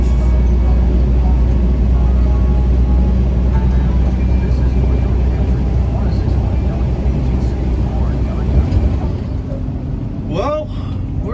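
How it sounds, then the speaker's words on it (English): Car rolling through highway traffic near Atlanta heading toward I-75 north, a constant loud low road and engine rumble with tire noise, a brief squeal-like sweep near the end. "Well, we're in traffic again."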